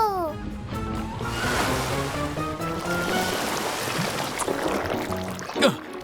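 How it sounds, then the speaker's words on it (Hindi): A cartoon-style splash of thrown water, a broad sloshing wash set against continuous bright background music in a children's animated fire-station scene. "मॉर्फल, पानी फेंक के इस लाइन को दूर कर दो।"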